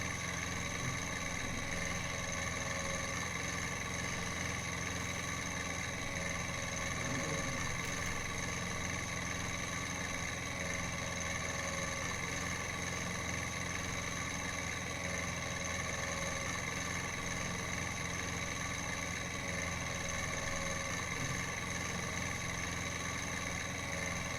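A farm engine with pistons working hard in the Best Village farming game, a steady droning hum held at an even level the whole time with no break.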